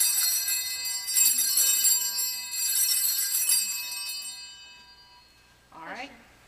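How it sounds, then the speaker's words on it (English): An altar server rings a hand altar bell three times during training. Three bright, ringing peaks sound close by, and each rings out and fades. A short spoken phrase comes at the end. "ring the bell."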